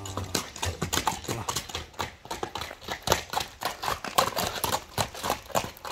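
A light-footed horse moving at a lively pace, its hooves knocking in a quick, steady patter of sharp clip-clop beats close by for several seconds, with no voices over it.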